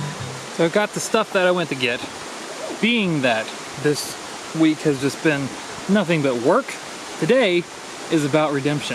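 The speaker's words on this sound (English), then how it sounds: "That is the sound of a creek, a river, a spring, water flowing behind me." A creek or spring keeps flowing behind a man, a steady broadband rush that never lets up beneath his continuous outdoor talk.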